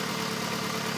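A Volkswagen AP engine in a Logus car runs on gasoline vapor, giving a steady, even idle hum with a continuous broadband drone and no breaks.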